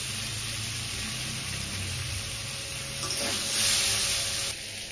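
Spice mix of cumin, ginger and dried chili hitting frying vegetables in a pan, a steady close sizzle that swells briefly louder as the spices go in, then settles.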